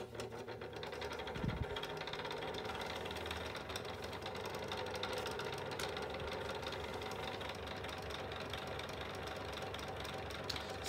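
A Sears 9-inch desk fan runs on low speed, its motor giving a steady whirring drone with a faint rattling texture, close and continuous, with a brief knock near the start.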